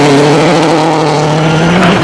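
Subaru rally car driven hard on a stage of the 2007 Rally de Portugal: a loud, close, sustained engine roar with rising and falling revs throughout.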